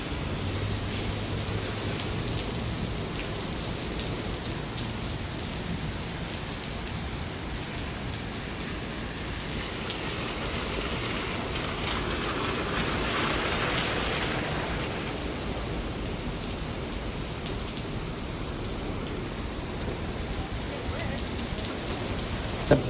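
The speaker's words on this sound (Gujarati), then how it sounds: "વરસાદ ચોક છે કંઈ પર." Heavy rain pours down outdoors in a steady, unbroken wash of dense noise that holds at an even loudness throughout, with no voices heard.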